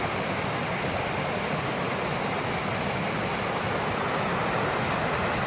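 Swollen creek in spate, running fast like a river with foam piling up and ice still along it, a loud, steady broadband rush of water filling the whole stretch without a break.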